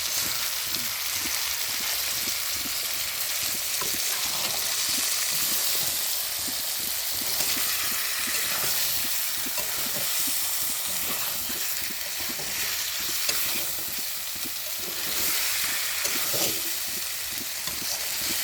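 Chicken pieces being stirred and fried in hot oil, a loud, dense, unbroken sizzle with rhythmic scraping and stirring strokes throughout.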